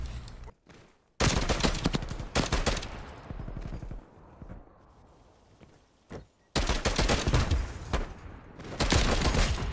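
Rapid automatic TEC-9 SMG fire in Call of Duty Cold War league play, several loud sustained bursts separated by short gaps, close and dominant, with occasional quieter shots between.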